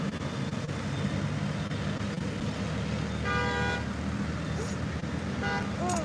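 Road traffic rumbles past continuously, with a car horn tooting twice, one longer honk in the middle and a brief one near the end, all fairly close and loud.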